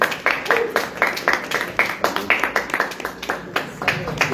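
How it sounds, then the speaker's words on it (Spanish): Small audience clapping at a book presentation, a fairly near, moderately loud patter of scattered hand claps with people talking over it throughout. "Y ustedes aplauden."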